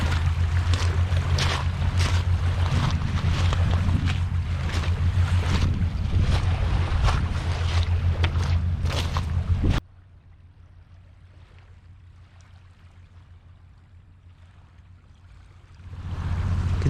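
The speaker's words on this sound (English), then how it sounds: "They're offloading one of the ferries" Ferry being offloaded at a Washington ferry terminal: a steady, loud rumble of engines and churning water with wind, dropping abruptly to a faint hush and then swelling again near the end.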